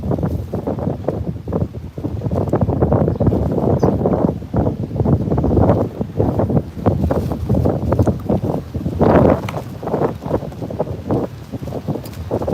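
Gusty outdoor wind buffets the microphone in repeated rough, rumbling bursts that rise and fall throughout.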